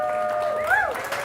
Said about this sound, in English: give me a round of applause for my beautiful fiance.